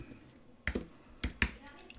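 Someone types a terminal command on a computer keyboard, giving a few sharp clustered keystrokes in short bursts against a quiet room.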